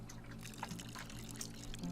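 Water pours onto a plant in the Botany Manor game, a soft, steady trickling stream lasting just under two seconds, faint and close.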